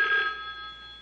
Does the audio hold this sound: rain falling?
no